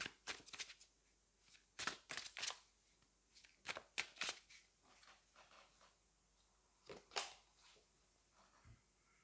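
Angel oracle cards are shuffled close by in a quiet room, riffling in quick irregular bursts separated by silent pauses, with no one speaking.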